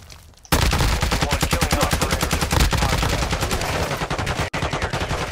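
Automatic weapon fire in Call of Duty DMZ on Ashika Island: a loud, steady stream of rapid shots that runs almost unbroken for about five seconds, with one brief break.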